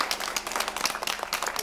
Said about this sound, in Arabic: تصفيق عليها تصفيق عليها تصفيق عليها